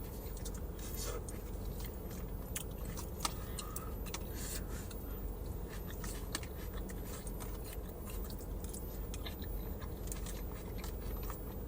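Someone chews drunken noodles close to the mic, with soft wet smacking and faint crunches from onion repeating irregularly over a low steady background hiss.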